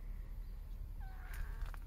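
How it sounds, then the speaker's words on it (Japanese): A cat on Sakurajima gives a short, faint meow over steady outdoor background noise. "かわいい声なくな。"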